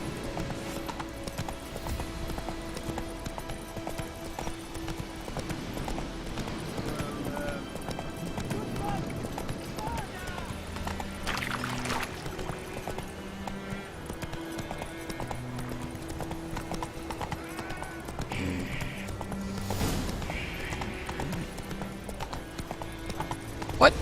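Roach, the horse in The Witcher 3, gallops with fast, rhythmic clip-clop hoofbeats under game music, and a voice talks over the action.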